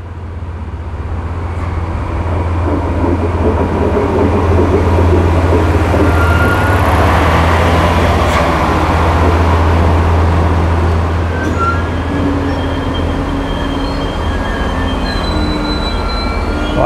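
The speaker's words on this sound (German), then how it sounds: "Fährt DB Regio hier mit dem Dieseltriebwagen." A DB Regio diesel railcar passes close by, a loud, steady rumble and rush of wheels on track with faint squeals, sustained for the whole stretch without speech.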